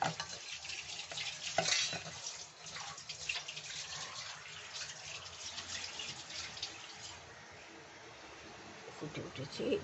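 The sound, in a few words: yogurt fish curry sauce boiling in the pan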